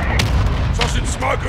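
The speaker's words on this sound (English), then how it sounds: "Mortar strike on the way." Mortar strike explosions in Call of Duty: Modern Warfare II, heavy booms and thuds in a loud battle din, with a voice speaking over them.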